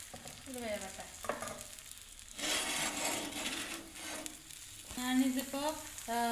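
A cutlet fries in a pan with a broad, steady sizzle, broken by scraping and stirring sounds and a few brief harmonic tones, moderately close and without talk.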